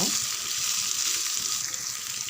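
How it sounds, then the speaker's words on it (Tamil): Brinjal sizzling and frying in a pan, a steady soft hiss of oil with light crackle, fairly quiet and continuous with no voices. "கத்திரிக்காய் நல்லா கொஞ்சம் 5 நிமிஷம் வதங்கிருக்கு"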